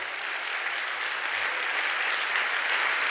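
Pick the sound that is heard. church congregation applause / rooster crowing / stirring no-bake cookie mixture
church congregation applause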